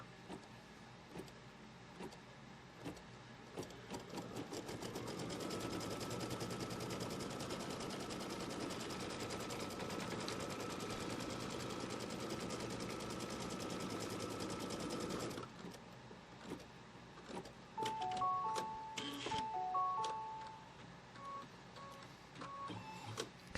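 An embroidery sewing machine tacks down quilt fabric in the hoop, a close, steady mechanical whirring for about ten seconds, followed by clicks and faint electronic beeps.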